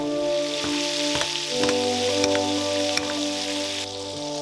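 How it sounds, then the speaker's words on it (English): Steak sizzling as it is basted with frothing butter and garlic in a hot pan, a steady loud fry with spoon clinks and splashes recurring every half second or so, no talk. "make sure the butter is frothing, and then we're going to baste"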